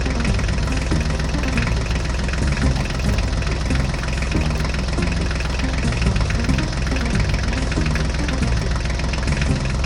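A mini tractor engine runs at a steady idle, a loud, continuous knocking chug with constant vibration and no pauses throughout.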